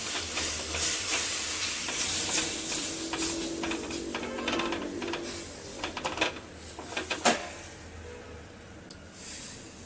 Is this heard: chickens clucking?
no